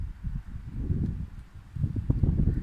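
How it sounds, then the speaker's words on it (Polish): Gusty wind buffets outdoors during a snowstorm in low rumbling bursts, rising and falling, with a stronger blustery stretch toward the end. "Patrzcie, jaki wiatr"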